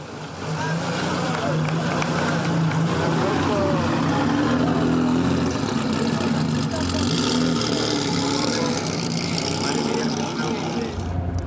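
A 1931 Alfa Romeo classic car on a victory lap at an outdoor concours event, its engine droning steadily at moderate distance under a noisy crowd and people talking.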